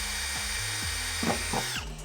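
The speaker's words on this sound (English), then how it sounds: "Now I can drill my pilot hole." A power drill whines steadily into car body metal drilling a pilot hole, pitch wavering as the bit bites, then spins down near the end; close and loud, no talking.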